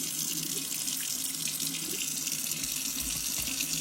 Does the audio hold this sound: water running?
yes